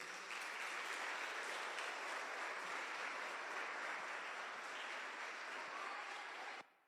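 Church congregation applauding steadily and loudly for nearly seven seconds, a dense wash of clapping that cuts off abruptly at the end.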